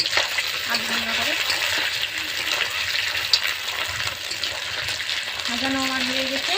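Fish heads fried in hot oil give a steady, dense sizzle with crackling throughout, close and fairly loud, with brief whining tones near the start and end.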